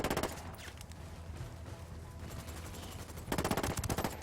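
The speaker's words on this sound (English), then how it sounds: "I'm opening fire on these shitheads." Gunfire in Ghost Recon Wildlands: rapid automatic bursts open the clip, sparse shots follow, then a loud sustained burst of fast rounds near the end.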